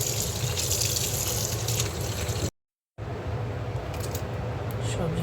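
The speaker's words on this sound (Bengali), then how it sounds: "কিছু সবজি কেটে নিলাম, সবজিটা ধুয়ে নেব।" Cut vegetables (bottle gourd, eggplant, potato and pointed gourd) being rinsed under a running kitchen tap, a steady broad rush of water with a brief gap near the middle before the flow resumes.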